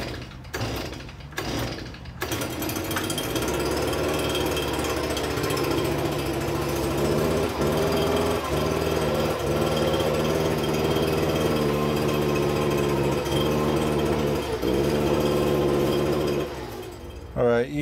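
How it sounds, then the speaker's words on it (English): A leaf blower starts up and runs with a loud, steady, buzzing engine drone for about fifteen seconds, blowing leaves out of a work area before cutting off near the end. "I'm gonna fire up the leaf blower"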